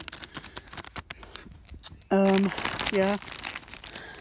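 Crinkling and tearing of a mail package being cut open to reach a green feathered T-Rex plushie, with close rustling bursts and a loud crackling stretch midway under brief talk.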